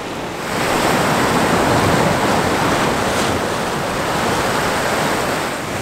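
Ocean waves wash over shoreline rocks in a close, steady roar of broadband surf that swells slightly and keeps rushing without a break, with no voices.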